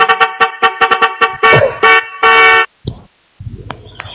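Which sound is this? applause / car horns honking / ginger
car horns honking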